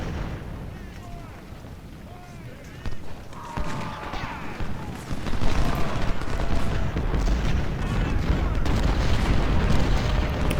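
Musket volleys and artillery booms from an American Civil War battle at Malvern Hill in Ultimate General: Civil War, a dense, rolling barrage of repeated blasts that builds louder toward the end, with no talk over it.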